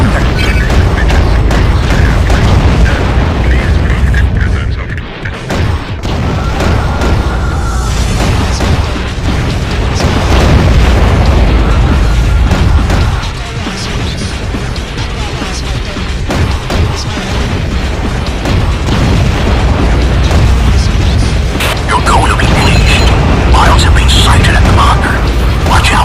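Heavy, continuous underwater explosions and rumbling impacts from a wreckage bombardment in the game AquaNox, loud and dense throughout with crashes layered over a deep roar.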